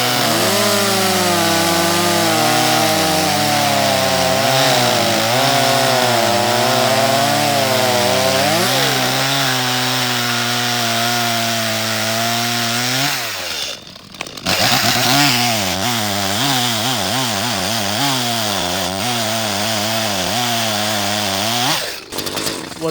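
A ported Echo chainsaw, a small homeowner saw, runs loud and close while cutting wood, its engine whine rising and falling with the load, briefly dropping off before revving back up through the cut.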